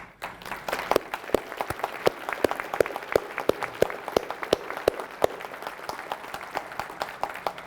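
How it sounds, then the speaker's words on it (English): A county government audience applauds fiscal court staff, a steady patter of many hands clapping at moderate distance, with sharp individual claps standing out in a regular rhythm throughout. "let's give you a round of applause"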